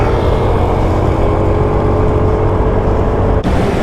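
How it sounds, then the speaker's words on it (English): Steady, loud motorcycle engine drone with a low rumbling hum, continuous throughout with a brief dip near the end. "It's back on these bad boy motorcycles"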